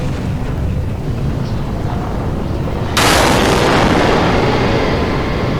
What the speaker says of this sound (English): A roar of an explosion ripped through SpaceX's rocket testing facility.